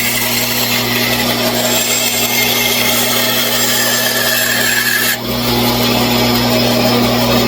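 A power saw cutting through a piece of wood for a toy train caboose, a loud continuous grinding whine with steady hum throughout and a brief dip near the end of the cut.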